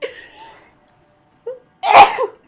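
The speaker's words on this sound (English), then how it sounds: "Sneezing fit, I'm sorry." A loud, close sneeze bursts out after a short breathy intake, preceded by a brief vocal sound, then quiet.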